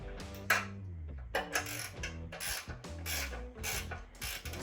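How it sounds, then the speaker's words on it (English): A ratchet wrench snugs the bolts on a Smittybilt XRC Gen 2 rear bumper with tire carrier, giving close, quick bursts of clicking strokes separated by short pauses. "he's going ahead and snugging those outside bolts with the two center bolts"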